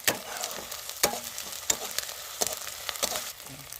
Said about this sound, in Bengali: আদা রসুন বাটাটা দিয়ে আমি আগে ভালোভাবে ভেজে নেবো